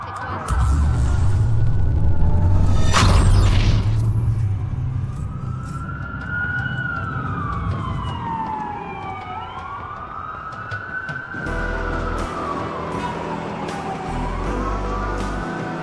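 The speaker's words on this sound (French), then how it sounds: "Ça fait beaucoup de sirènes pour une coupure." Police sirens wail in Watch Dogs, their rising and falling tones sweeping slowly and overlapping, loud and near after a sharp impact, over traffic rumble.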